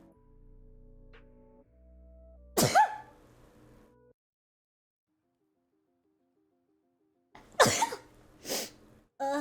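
A person sneezes, with one sharp explosive burst, a long quiet gap, then two or three more close, forceful sneezes and throat noises.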